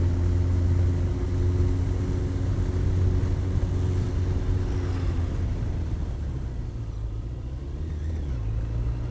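A motorcycle runs fast on an open highway at around 200 km/h, giving a steady, loud engine drone and wind rumble that eases off slightly near the end. No one speaks.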